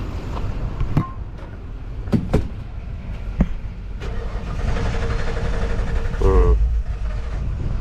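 A 1995 Ford one-ton with a 5.8 351 V8 cranks and catches on brake cleaner, with sharp knocks and clunks followed by a sustained, rough engine run that surges near the end, close and loud, with people talking.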